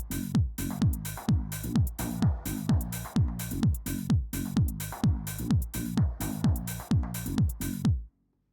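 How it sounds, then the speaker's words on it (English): House-style rhythm percussion loop from an M1 house drum kit playing with a bassline, tight repeating drum hits in a steady four-on-the-floor pulse with descending bass notes, loud and upfront, stopping abruptly near the end. "I also have a very cool rhythm percussion loop going that I found in my loop collection."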